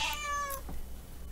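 A pet cat meows twice indoors, one drawn-out descending meow followed by a shorter one, close and clear with no talking.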